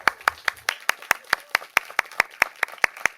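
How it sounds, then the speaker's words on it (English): A round of applause at a San Mateo County Board of Supervisors meeting, heard as steady, evenly spaced claps, close and crisp, about sixteen beats over three seconds. "Can we give Amy a round of applause and her team?"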